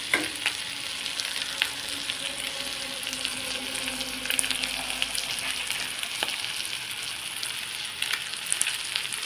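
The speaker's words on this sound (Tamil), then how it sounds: "தேங்காயோட அந்த ஈரத்தன்மை போகிற வரைக்கும் வணங்க விடுங்க." Grated coconut sizzles steadily in a hot pan while being stirred for mint chutney, a close, continuous crackling fry with occasional scrapes and no voices.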